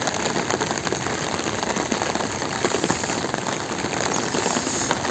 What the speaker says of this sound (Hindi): फ्लो ज़्यादा है अभी बारिश का